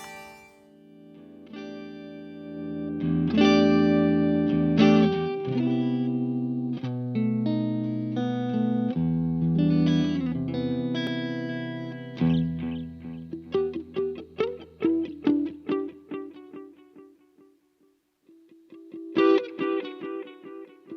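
Electric guitar played through a Black Mountain volume pedal, with sustained chords swelling from silence to full level, then a run of quick plucked notes and a final swelling chord, all played alone with no talking.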